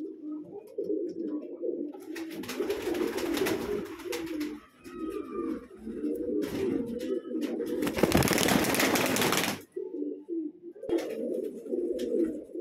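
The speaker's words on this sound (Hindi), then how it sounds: "दोनों बड़े साइज का कबूतर है" Large old-breed rooftop pigeons cooing steadily in low repeated rolling phrases, close by, with brief louder rustling or wing noise breaking in midway.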